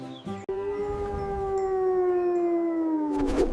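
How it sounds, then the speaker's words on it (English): A single long wolf howl sustained close and loud, steady and slightly falling in pitch over several seconds, rising into a brief waver at the end, with no talk. "Who howls at the moon? It's a wolf."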